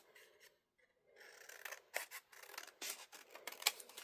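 Scissors snipping through paper and fabric for a Victorian sewing collage, close and quiet, a run of short crisp cuts after a near-silent start, irregular in rhythm.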